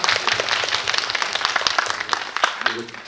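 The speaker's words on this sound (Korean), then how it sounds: "질문하신 송포유님에게 한번 박수 보내줄까요?" Audience clapping for a questioner during a Korean film Q&A with the director and lead actress, scattered individual claps rising and falling over a few seconds, mixed with some voices.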